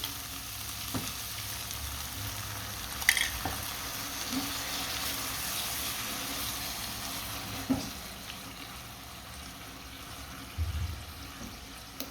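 Flat beans cooking in a mustard curry sizzle steadily in a pan as a little water is added, with a few soft clinks and stirring bumps over a constant frying hiss and no talking.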